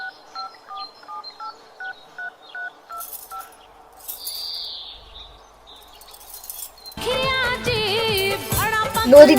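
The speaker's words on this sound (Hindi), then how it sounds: "ऐसा करते हैं, फोन ही लगा लेते हैं।" A phone keypad beeps out a series of evenly spaced dialing tones, then a ringing or connecting tone begins and busier sound follows.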